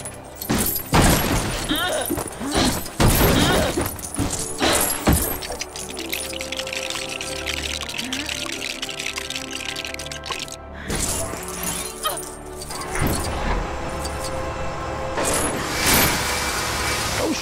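Digging up a fossil in the Lego Jurassic Park video game brings loud bursts of clattering, crunching and shattering plastic-brick debris, followed by a whirring mechanical hum and more rattling clatter near the end.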